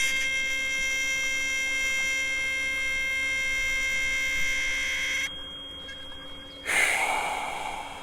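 A 528 Hz crystal singing bowl rings as a sustained, pure tone with stacked overtones, steady and fairly loud for about five seconds before cutting off, followed by a short quiet gap and then a breathy rush of air.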